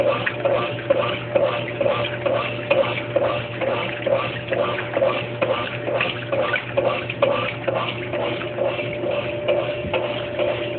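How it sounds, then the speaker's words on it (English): Water, very hot from a water heater, runs steadily into the drum of a Brastemp Baby Mondial washing machine with a rhythmic mechanical clatter and a low steady hum underneath, close and moderately loud. "I'm going to fill the machine with very hot water from my water heater"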